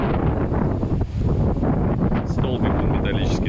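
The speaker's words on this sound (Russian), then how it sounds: "Вот такие ветра бывают здесь." Strong wind at a Cuban seaside holiday spot, a constant heavy rumble buffeting the microphone with roaring gusts and no let-up for several seconds.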